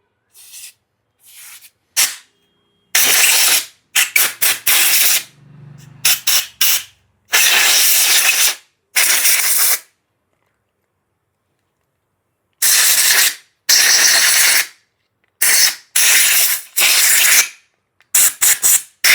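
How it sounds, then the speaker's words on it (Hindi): Cleaner sprayed into the fuel pump filter of a Yamaha MT-15 motorcycle, heard as loud close hissing bursts of varying length separated by silent gaps, about a dozen sprays in all. "फिल्टर के अंदर थोड़ा स्प्रे करते हैं"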